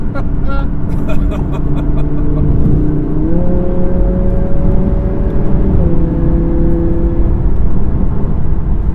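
A 2017 Audi R8 V10 Plus engine with sport exhaust revs and accelerates with a deep, rising exhaust roar, loud and close, pitch stepping up through the gears.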